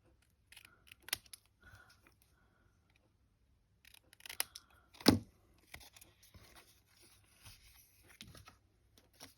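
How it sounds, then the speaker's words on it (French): Scissors cutting paper into wide strips for a spoon holder craft, a few sparse snips spread across the moment with quiet handling in between and one louder cut near the middle. "Je vais maintenant couper ici en languettes et je coupe"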